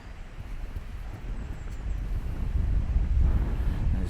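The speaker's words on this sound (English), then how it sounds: "It's very, very windy today here" Strong wind blows outdoors as a low, steady buffeting rumble across the microphone, swelling louder toward the end, with no talk.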